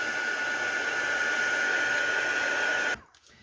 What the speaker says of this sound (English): you can let it air dry, it doesn't take long, or you can speed that up with your heat tool